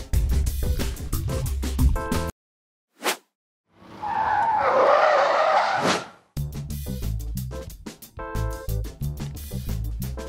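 Tires on a 2024 Ford Grand Tourneo Connect skid and squeal through a moose-test evasive manoeuvre, a rough, loud burst of a couple of seconds set between stretches of music.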